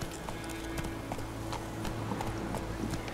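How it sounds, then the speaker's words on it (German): Horse hooves clip-clopping at a steady riding pace in The Witcher 3 video game, a continuous rhythmic patter over a low ambient hum, with no one talking. "So, wir reiten mal weiter zur Kräuterfrau."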